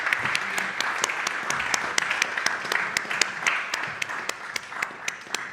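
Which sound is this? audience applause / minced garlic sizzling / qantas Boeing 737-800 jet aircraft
audience applause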